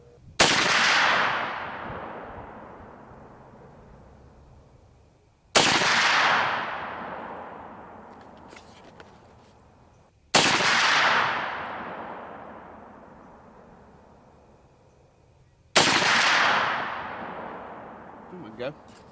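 A 45-70 Government rifle fires 300-grain Sierra and 350-grain Hornady loads with packing material: four loud, sharp shots about five seconds apart, each followed by a long rolling echo that fades out.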